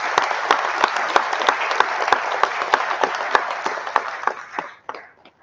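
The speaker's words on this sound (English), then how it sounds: "acknowledge him once again by a big round of applause" An audience at a lecture event applauds with a dense burst of many clapping hands, loud and steady for about five seconds before it thins out and stops.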